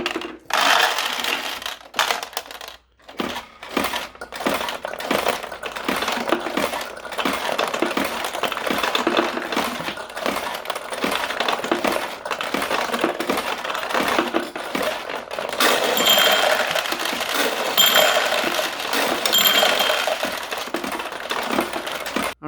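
Steel balls pour and clatter into the hopper of a 1975 Nishijin Galloping Horse pachinko machine, a dense metallic rattling and jingling that runs continuously and loud up close, without talk.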